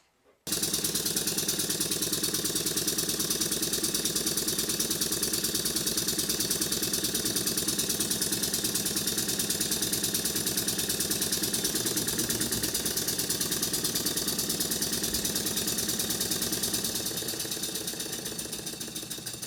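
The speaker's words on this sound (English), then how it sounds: "And yes, I am running this engine far too fast." A small Stuart Grasshopper model beam engine runs far too fast and steady, flywheel wobbling, with a continuous mechanical chatter and whir, loud and close throughout, easing slightly near the end.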